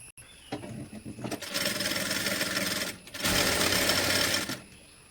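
A sewing machine stitching a kids' designer back-open top runs in two long, loud, steady bursts with a short break between them, close up and with no voices.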